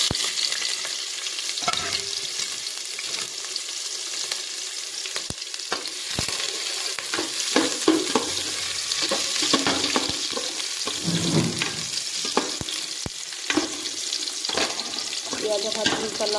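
Onions fry in hot oil in a pan for chow mein, a loud continuous sizzle broken by frequent clattering stirs and scrapes.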